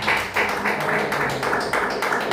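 A church congregation claps hands in praise during worship, a steady rhythmic run of roughly two claps per second, moderately loud and close, with no talk.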